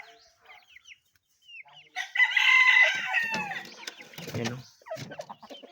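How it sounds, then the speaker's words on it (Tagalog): Labuyo red junglefowl rooster crowing once, loud and near, among scattered clucks and soft calls from other birds, with someone briefly speaking. "Yan, napakagandang labuyo."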